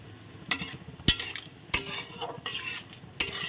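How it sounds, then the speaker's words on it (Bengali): Lentil badi frying in oil in a pan with white mustard, stirred with a utensil: several sharp scraping clinks against the metal pan over a steady, soft sizzle, close up, with no talking. "বড়িগুলোও কিন্তু একই সাথে লাল লাল করে সুন্দর ভাজা হচ্ছে।"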